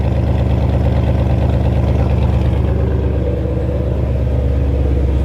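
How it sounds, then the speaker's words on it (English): Base Ford Mustang GT V8 idling through an H-pipe active exhaust, a deep, steady, close rumble with an even low throb throughout and no voices. "That sounds deep with the H pipe."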